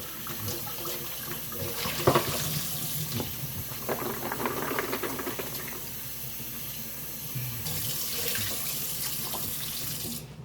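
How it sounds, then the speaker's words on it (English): Carrots are rinsed under a running kitchen tap into the sink, a close steady stream of splashing water that swells and eases, with no talking. "I'm rinsing the carrots off."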